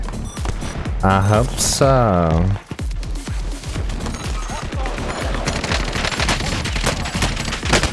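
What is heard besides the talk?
gunfire in a video game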